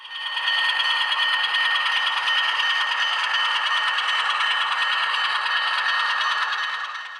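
An Atlas HO scale ALCO S-4 model switcher locomotive running slowly: a steady, close motor whir with a faint mechanical rattle, constant in level from start to finish, with no voices.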